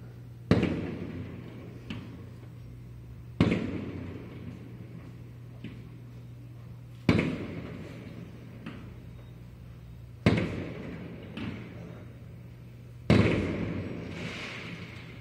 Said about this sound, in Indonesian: Pesta kembang api, guys